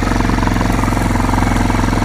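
A Kawasaki KLF300 4x4 ATV engine runs loud and close off-road, a steady throbbing drone with a fast pulsing beat and no talking over it.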